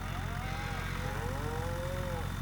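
Cows mooing in the Farming Simulator 25 video game, several drawn-out moos overlapping in a steady stream over a constant low farm-ambience hum, with no talking.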